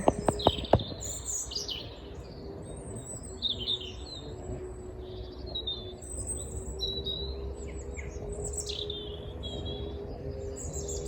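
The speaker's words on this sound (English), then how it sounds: "And the birds are singing." Small birds sing and chirp in a spring garden with daffodils, bright varied phrases scattered near and far over a faint steady hum, after a few sharp clicks at the start.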